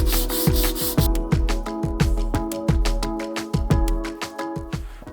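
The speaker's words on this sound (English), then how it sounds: "I need to sand this down a little bit, smooth out the faces" Hand sanding of a cedar drawer part, a series of close, rhythmic rasping strokes, roughly two per second, loud and steady with no talking.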